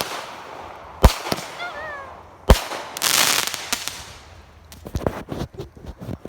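Backyard fireworks going off: sharp loud bangs near the one- and two-and-a-half-second marks, a whistling rocket and a crackling burst, then a quick run of popping firecracker-like reports toward the end.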